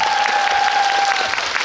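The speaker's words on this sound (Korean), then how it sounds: "통역관님께 큰 박수" An audience at a film screening and Q&A applauds the event's interpreter with a short, dense, steady burst of clapping from a large seated crowd.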